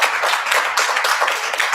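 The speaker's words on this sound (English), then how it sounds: "Everyone could clap after every comment" Audience clapping at a city council meeting in Lebanon, Indiana, a dense burst of many hands applauding together, loud and close, with no talking over it.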